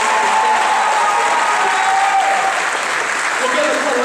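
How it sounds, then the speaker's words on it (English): Sustained, dense applause from a commencement audience honoring the college executive committee, steady and loud throughout with a faint voice underneath. "let's give another round of applause to the executive committee."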